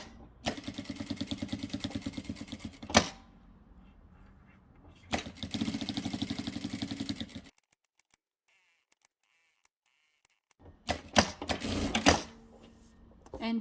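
A sewing machine stitches fabric for reusable Christmas bon bons, running in rapid mechanical bursts of a couple of seconds each with clunks between, then silence before a final burst, close and fairly loud.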